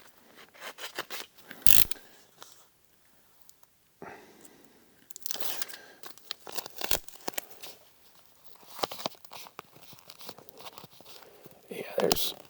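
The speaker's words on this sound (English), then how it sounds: "we'll do our best, Razan tape the rest here on this one" Tape is ripped from a roll and pressed onto house framing in several sharp tearing and crinkling bursts separated by pauses, close to the mic, with a person talking in between.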